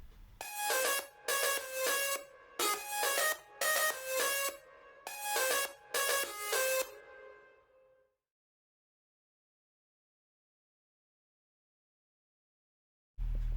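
A layered synth lead with overdrive, sidechain compression and reverb plays bright, pulsing chopped phrases in a rhythmic pattern, loud and close, then decays into a reverb tail and silence before a brief burst returns at the end.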